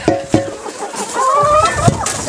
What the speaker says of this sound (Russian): Это у меня доминанты, куры породы доминанты.